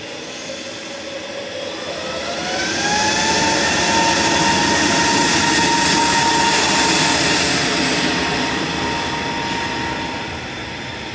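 Jet engines of a TUI Boeing Dreamliner at Manchester Airport swell into a loud roar with a rising whine, then ease off as the aircraft passes at close range.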